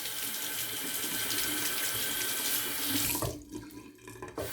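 Water from a bathroom tap runs steadily into a sink as shaving lather is rinsed off a razor or face, a close continuous splashing hiss that breaks up near the end as the flow is interrupted.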